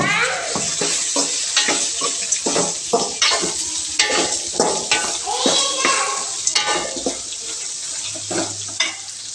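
Urad dal, cumin, curry leaves, green chilli and onion frying in a pan for raw mango rice, with steady sizzling and repeated scraping stir strokes throughout, close and fairly loud, plus brief water-like splashes.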